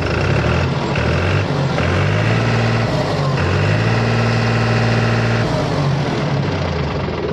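A New Holland 3230 45 HP straight-axle tractor engine runs steadily nearby, a loud, continuous diesel drone with a low rumbling hum and faint knocking, and no talk.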